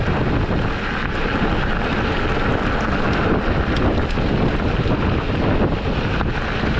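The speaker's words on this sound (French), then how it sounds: "Il fait quand même frais, il y a du vent." Wind buffeting the microphone on the Col du Béal mountain pass, a loud, steady roaring rush with no voices.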